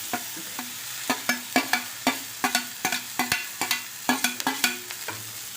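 Chopped capsicum being stirred into a softened onion mixture in a pan for a Malvani-style bhaji, with a steady series of sharp spatula scrapes and knocks over a soft sizzle, close and fairly loud.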